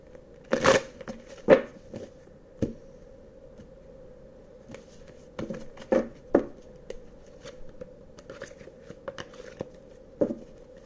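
Tarot cards being shuffled by hand, a run of soft riffles, slaps and flicks over a steady low hum, close and fairly quiet.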